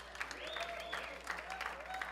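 Church audience applause rolls steadily for about two seconds during a Father's Day service, with a few voices calling out faintly over the clapping.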